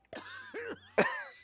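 The video game Manual Samuel's character coughs three times in quick succession, short rough throaty bursts that are close and fairly quiet, with no other sound.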